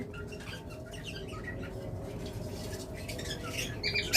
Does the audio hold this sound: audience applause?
no